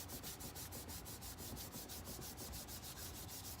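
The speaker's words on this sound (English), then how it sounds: "I'm going to fold it over, and I'm going to rub." Folded paper is rubbed by hand to transfer chalk, a faint, steady, rapid scratchy rubbing with regular strokes, close and alone.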